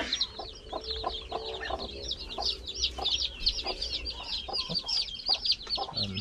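A brood of newly hatched chicks peeps continuously in high, rapid chirps close by, with occasional lower clucks from the hen and no talking.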